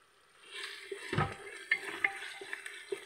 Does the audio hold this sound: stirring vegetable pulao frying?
yes